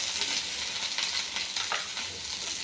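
Mustard seeds, urad dal, curry leaves and dried red chillies fry in hot oil with a dense, continuous sizzle and crackle, close and steady, with faint stirring scrapes throughout.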